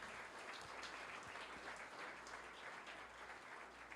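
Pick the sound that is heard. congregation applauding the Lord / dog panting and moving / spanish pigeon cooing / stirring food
congregation applauding the Lord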